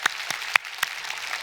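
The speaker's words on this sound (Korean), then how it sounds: "자, 우리 박수 한번 쳐줘요." A few scattered, separate claps from a church congregation at a New Year revival service, four or five sharp hand strikes spaced out over a moment in a quiet room.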